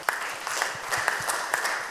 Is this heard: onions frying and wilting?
no